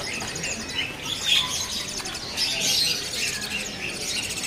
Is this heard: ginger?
no